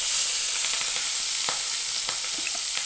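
Rohu fish sizzles steadily in hot oil in a wok, a dense continuous frying hiss with scattered small pops and crackles, close and fairly loud, with no voices.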